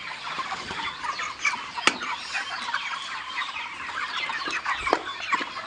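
Broiler chickens cluck steadily, fairly close and moderately loud, with a few sharper calls rising from the flock while they eat fermented feed poured along the edge of a pot on a farm.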